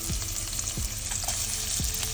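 Okra pieces fry in hot oil in a kadai with onion and curry leaves, giving a steady close sizzle and crackle with a few soft low thuds from stirring, no voices over it.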